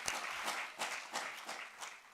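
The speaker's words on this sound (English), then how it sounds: "can we get another round of applause for Mesmo?" Audience applause at a startup demo day, a steady wash of many hands clapping throughout, moderately loud with no talk over it.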